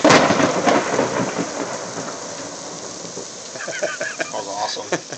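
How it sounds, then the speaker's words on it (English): Thunder rumbles loudly during a thunderstorm with a flash flood, a heavy crack at the start rolling into a long fading rumble over steady rain on surfaces, with scattered splashes and rustles near the end. "got ourselves a pretty sweet thunderstorm here"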